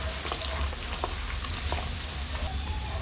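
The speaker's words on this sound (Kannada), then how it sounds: "ಒಂದು 10 ಗೋಡಂಬಿನ ಹಾಕ್ಕೊಂಡು ಚೆನ್ನಾಗಿ ಫ್ರೈ ಮಾಡ್ಕೊಳ್ಳೋಣ." Cashews fry with cardamom, cinnamon, cloves and bay leaf in a pan for capsicum rice, a steady close sizzle broken by a few light scrapes and clicks of stirring, no talk over it.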